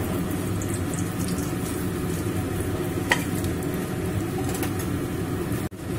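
Cumin seeds, bay leaf, dried chilli, cinnamon and small cardamom sizzle loudly in hot oil in a kadai, a dense continuous crackle with scattered sharp pops and a brief scrape near the end, no voices.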